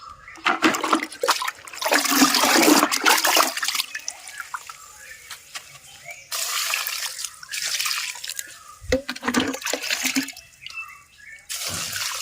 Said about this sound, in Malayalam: അപ്പോൾ നമുക്ക് ജൈവ സിലറി ഒഴിച്ചു കൊടുക്കാം.